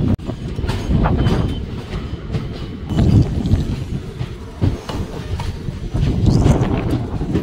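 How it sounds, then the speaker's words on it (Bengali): A passenger train departing Mathura Junction for Agra Cantonment rolls along with steady rumbling and rhythmic clickety-clack of wheels on rails, heard from close by, with no talking. "এই এখন ছেড়ে দিল মথুরা জংশন থেকে এই আগ্রা ক্যান্টনমেন্ট যাওয়ার এই ট্রেনটি।"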